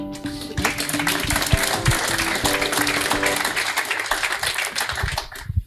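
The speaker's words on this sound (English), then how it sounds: "It's always nice to have applause before you start." Audience applause at a rugby supporters' club evening in the lounge, a dense patter of clapping running steadily for several seconds before fading near the end, with faint background chatter and some clinks.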